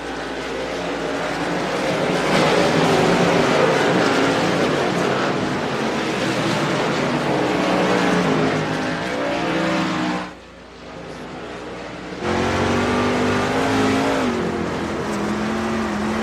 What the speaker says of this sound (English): The sweet sounds of those trucks in virtual